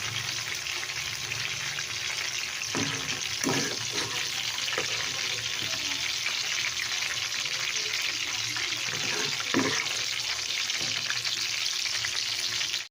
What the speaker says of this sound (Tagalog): Tapos na naprito yung ating tukwa